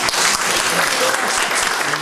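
Audience applause at a founders' meeting for a Jinju Australian mission history hall, dense steady clapping filling the whole moment at close range.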